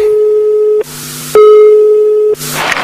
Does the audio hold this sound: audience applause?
no